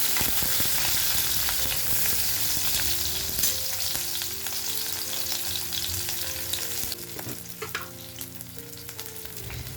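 Garlic, onion and green chili fry in a pan as part of a vegetable recipe, giving a steady, loud, close sizzle throughout with occasional stirring scrapes and a low tonal hum underneath.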